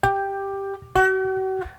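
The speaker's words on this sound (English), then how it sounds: "if the fretted note sounds like that, which is too flat, which is too low" Two plucked cigar box guitar notes in a row, the fretted note too flat, each a bright twang with a steady pitch that rings out before being cut off, the second struck right after the first.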